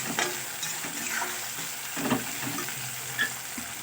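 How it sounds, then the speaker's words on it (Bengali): Tomato and onion stirred in hot oil for a Bengali fish curry, giving a steady close sizzle with soft scraping and clinking of the spoon against the pan throughout. "টমেটো আর পেঁয়াজ আর একটু নাড়াচাড়া করে নেব।"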